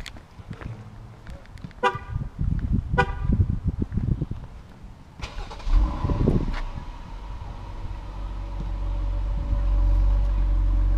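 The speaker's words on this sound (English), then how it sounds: "I'm going to give you guys a quick stock as hell cold start, and we will see how that sounds" A stock Dodge Durango V8 engine cranks on a cold start and catches after a few short bursts, then settles into a steady, loud idle rumble that holds to the end.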